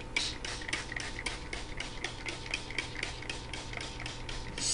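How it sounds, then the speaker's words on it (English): Rapid, evenly spaced spritzes from a spray bottle misting water onto watercolor paper, around fifteen short bursts in a steady rhythm, close and fairly quiet, with no talking. "take your paper and we're going to spray water all over it to get it wet."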